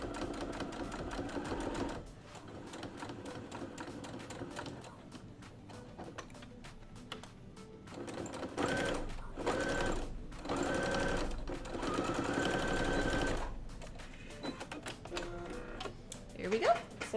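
A sewing machine top stitches around the edge of a fitted face mask with horns, running slowly in steady bursts with short pauses, while a person talks over the motor's hum.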